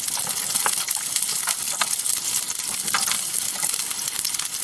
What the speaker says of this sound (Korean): 양파를 먼저 넣을 거예요. 그리고 양파의 간 향이 올라올 때까지 충분히 볶아주세요.